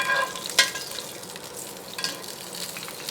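Thick salmon fillet sizzling in a cast iron pan while hot oil is spooned over it, a steady soft crackle with a couple of sharper spatters and scrapes near the start and middle.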